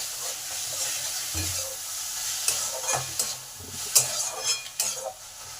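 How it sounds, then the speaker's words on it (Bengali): Banana flower with turmeric, salt and sugar stir-fries in a pan, a soft steady sizzle broken by several scraping spoon strokes and clinks in the second half, close and without talk. "এবার ভালো করে কষে নেব।"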